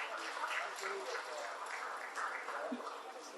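Audience applause at a multicultural Salvation Army Red Shield Appeal launch event, a steady dense clatter of clapping spread across the room, with voices mixed in throughout.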